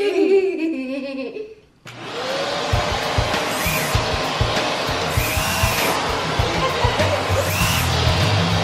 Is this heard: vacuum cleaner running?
yes